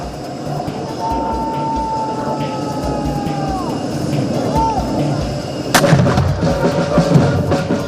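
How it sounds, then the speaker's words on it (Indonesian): Ceremonial 21-gun salute during a state welcome for a visiting king in Indonesia: dull, distant booms under a steady crowd and vehicle rumble, with a sharper, louder blast near the end, while people talk in the background. "21 kali dentuman kehormatan menemani perjalanan Presiden Prabowo dan Raja Abdullah II."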